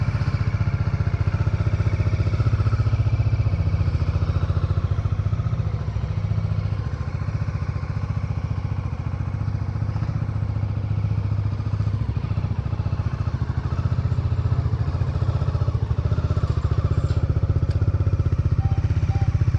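A Bajaj Dominar 400 motorcycle engine warms up at idle, a steady low rumble with a constant, close, even tone that holds unbroken throughout, with no talk over it.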